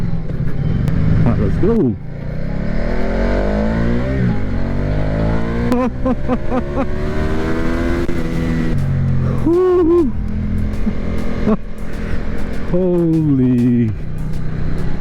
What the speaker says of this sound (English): How about we do a quick little pull test in sport mode?